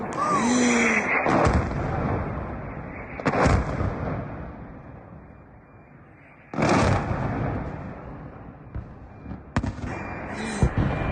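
Several loud explosions in Sevastopol burst out separately, each followed by a fading rumble, with quieter gaps and a few short voice sounds between them.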